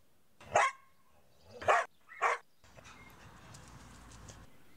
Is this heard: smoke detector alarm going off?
no